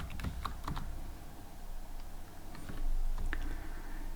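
Close keystrokes on a computer keyboard while Python code is entered, irregular clusters of clicks and taps over a soft room hum, with pauses between bursts.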